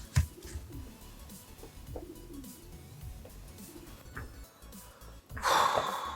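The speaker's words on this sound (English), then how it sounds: "We seem to have pigeons on the roof" Pigeons coo on a roof: soft, low, rounded calls repeat in short phrases, fairly faint and a little distant against a quiet room, with a brief louder rustle near the end.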